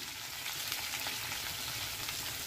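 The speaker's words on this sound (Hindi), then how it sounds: "आलू फ्राई करेंगे हम" Potatoes frying in a pan for a tangy Gujarati-style aloo dish, a steady crackling sizzle heard close and alone.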